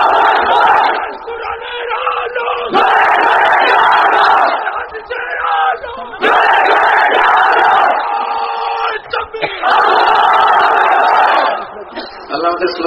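A large Muslim gathering under a pandal at an Islamic sermon gathering roars religious slogans in unison, loud repeated chanted bursts separated by short pauses, alternating with a leader's calls.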